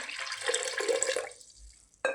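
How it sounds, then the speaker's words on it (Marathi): Water poured into a pot of mixed vegetables for a Bhogi bhaji, a close, brief gushing splash of about a second that fades to quiet, followed by a short sharp knock. "आता पाणी टाकून घेऊयात"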